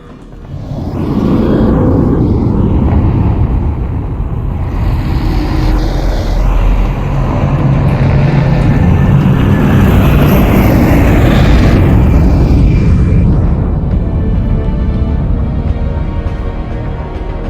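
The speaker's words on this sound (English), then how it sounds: "There's a gunship." A gunship in the video game Half-Life: Alyx roars overhead, a loud, heavy rumbling drone that swells and sweeps past over several seconds, with no voices.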